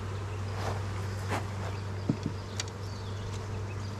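Honeybees in a nucleus hive keep up a steady, close hum with a low continuous drone, broken by a few soft knocks and brief rustles.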